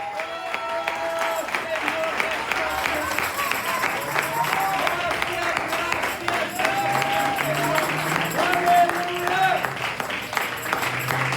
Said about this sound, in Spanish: vamos a darle una vez más ese fuerte aplauso al Señor